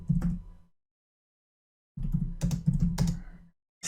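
Fast typing on a computer keyboard while entering an Excel VBA macro, two close bursts of clacking keys separated by a silent gap of over a second.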